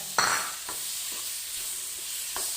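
Chambakka (rose apple) pickle mixed with salt and chili is stirred in a pan. A few scraping strokes sound over a soft, continuous sizzle, with no voices.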